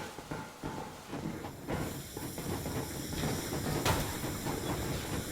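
The steam locomotive Aurora pulls away in Metro Exodus, heard as a steady, fairly faint wash of steam hiss and rolling rail rumble with no voices.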